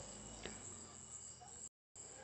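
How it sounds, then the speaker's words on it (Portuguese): Crickets chirping at night in a steady, continuous high trill, with a brief dropout near the end. "Aqui é o barulhinho dos famosos grilos"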